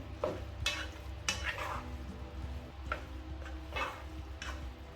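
Tomatoes stirred into a pot of ratatouille, with several spoon scrapes and clinks over a low steady simmer, close and moderately quiet.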